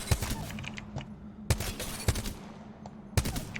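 Assault rifle fire in the Apex Legends video game, heard as sharp bursts of shots at a few separated moments, loud against steady game background with no talking.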